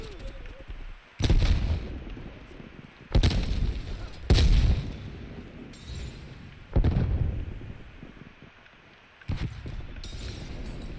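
Gunfire in a video game, several loud heavy shots in separated bursts with quieter gaps between.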